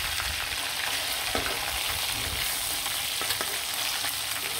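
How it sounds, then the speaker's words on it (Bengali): River rohu fish pieces frying in hot oil, a loud dense continuous sizzle with crackling spatter and occasional stirring scrapes, close up and steady throughout with no voices. "আর মাছগুলো লাল লাল করে ভেজে ফেললাম"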